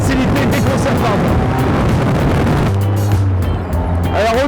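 A Caterham Seven 275 R sports car driven at speed, its engine droning loud and steady with heavy wind rush, the tone dropping into a lower steady note partway through.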